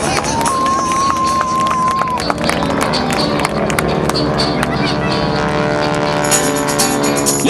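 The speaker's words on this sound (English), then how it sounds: "the Geico Skytypers bomb burst" GEICO Skytypers propeller planes roar overhead in a bomb burst maneuver at a military airshow at Joint Base Andrews, a loud sustained engine drone under an announcer's voice and crowd noise.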